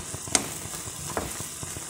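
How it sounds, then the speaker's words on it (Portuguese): Pork sizzles steadily in a pan, a constant crackling fry with a few sharper pops and light stirring clicks, close and fairly loud with no talking. "eu já estou fritando aqui uma carrinha de porco"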